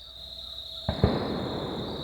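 Two distant shotgun shots from bird hunters echo through a forest in Davy Crockett National Forest, Texas, as brief, muffled booms in quick succession over a steady high insect drone.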